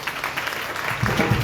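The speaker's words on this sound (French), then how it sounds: "Applaudissez, s'il vous plaît," Wedding guests clap for the music group at a nuptial ceremony, a steady dense patter of hands that swells slightly near the end, with faint voices mixed in.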